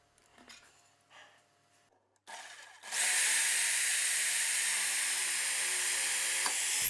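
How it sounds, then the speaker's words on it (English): A power drill mounted in a mobile drill stand bores holes into wood in a home workshop, with a few faint clicks and handling noises before a loud, steady whirring drone takes over and holds for several seconds. "Then I drill 4 holes in the corners using my mobile drill stand."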